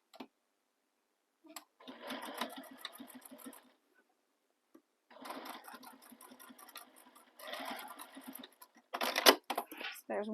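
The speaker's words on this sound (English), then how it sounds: "And now we're going to baste this in place." A home sewing machine basting a tab onto a crossbody bag, running in three bursts of rapid stitching separated by short pauses, close and clear with a faint click before each run.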